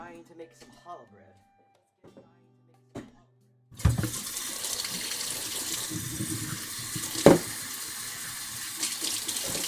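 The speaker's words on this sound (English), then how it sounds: "Alright, so I just gotta try and get out some water." Water runs from a tap in the Virtual Bakery cooking game, a steady rushing flow that starts abruptly after a few quiet seconds, with a sharp clunk partway through.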